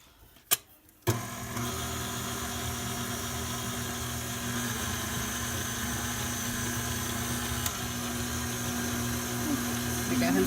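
An electric mixer hums steadily at a constant pitch for about nine seconds after a couple of sharp knocks at the start, close and fairly loud, with a voice speaking over it.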